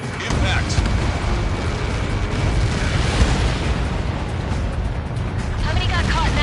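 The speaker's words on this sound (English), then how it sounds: "How many got caught in that explosion?" An impact explosion in a PS4 video game roars as a loud, sustained rumbling blast with crackling debris, while a voice speaks over the din.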